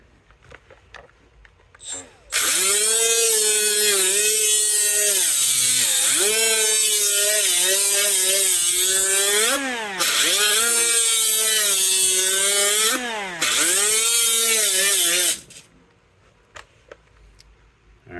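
A Hercules 12V right angle grinder spins up and cuts for about thirteen seconds, its loud motor whine rising and dipping in pitch as it loads and bogs, then it stops abruptly, with quiet background noise before and after.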